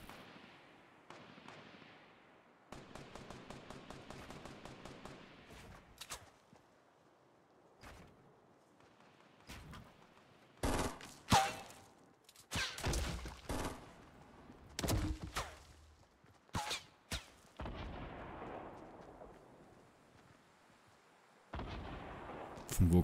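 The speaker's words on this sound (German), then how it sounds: "Von wo kommen die Schüsse, Alter?" Gunfire in the video game Fortnite Battle Royale: sharp shots crack out irregularly, singly and in quick clustered bursts, some loud and close, others fainter, with quiet gaps between.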